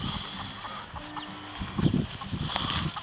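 Soft chicken clucks come and go over a low outdoor rustle in a rose garden, with a brief louder burst of clucking near the middle.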